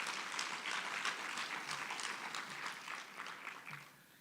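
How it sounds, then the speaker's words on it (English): Audience applause at a SAFETA student leaders' gathering, fairly distant, dense clapping that holds steady and then fades out toward the end. "Can we give a big round of applause to ourselves as SAFETA and student leaders?"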